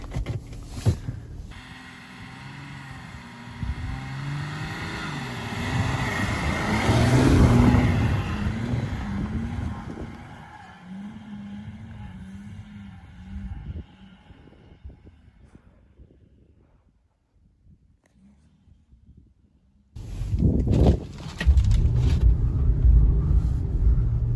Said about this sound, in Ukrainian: от такій лисій резині ми виїдемо під таку горку